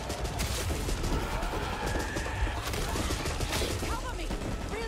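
Dense, continuous gunfire from the zombie shooter Back 4 Blood, loud bursts and rapid shots layered over frantic game noise with a player talking throughout.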